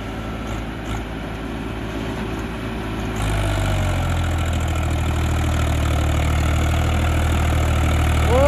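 A Swaraj tractor engine runs in low gear, a loud, close, steady rumble that deepens and grows heavier partway through as it takes load.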